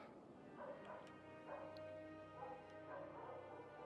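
A mortally wounded dog in the video game Dying Light 2 whimpers in several thin, high, wavering cries spaced about a second apart, fairly quiet over a low steady background hum.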